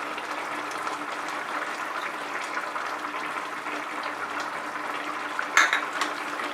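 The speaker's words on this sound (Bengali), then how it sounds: "ধনেপাতাটা দিয়ে মিশিয়ে নেব" Chopped coriander is stirred into a Bengali tangra fish curry with vegetables over a steady, soft simmering hiss. A single sharp utensil clink comes near the end.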